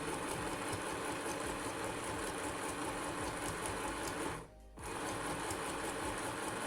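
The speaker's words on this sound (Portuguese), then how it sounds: "novamente ela tá costurando super bem com 8 camadas" A LANMAX LMD-505A sewing machine stitching through eight layers of fabric, a steady fast whirring hum that stops briefly for about half a second before resuming at the same pace.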